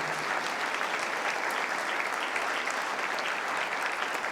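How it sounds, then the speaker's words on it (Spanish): Church congregation applauding, a steady dense wash of many hands clapping together, loud and sustained throughout with no pauses. "Dale un aplauso al Señor."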